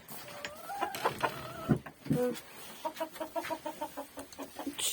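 Chickens clucking inside a hen coop, a run of short rhythmic clucks and a couple of longer calls, fairly close, with soft rustling and no talk.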